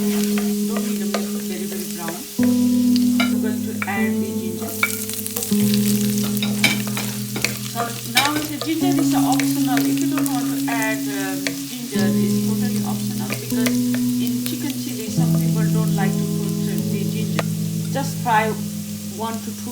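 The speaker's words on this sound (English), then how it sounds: "this oil is hot, so I'm going to add first garlic. Fry at least 1 to 2 minutes." Garlic and ginger fry in hot oil with a continuous sizzle and crackle, joined by frequent clinks and scrapes of a utensil stirring the pan. Background music plays throughout.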